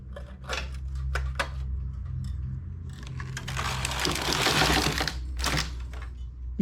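A knitting machine carriage works a braided ribbed cuff, giving a busy mechanical clatter of clicks and rattles that swells into a dense rasping sweep near the end, loud and close with no talking.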